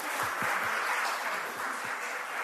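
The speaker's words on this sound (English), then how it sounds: "Another clap." Room audience at a women's reading event applauds a reader who has just finished, a dense, even wash of many hands clapping together, steady and fairly soft, heard without talk.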